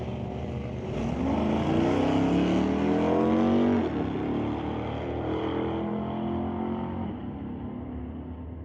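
Drag race cars in an ET series bracket race run down the quarter-mile at Mission Raceway Park, a loud, close engine roar rising steadily in pitch and then easing off near the end, with no talk.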